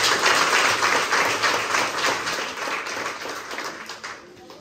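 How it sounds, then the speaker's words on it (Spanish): A congregation at a Catholic church mass breaks into applause, dense steady clapping that gradually fades out, with faint talk in the background. "démosle un fuerte aplauso a todos los que nos ven desde diferentes lugares"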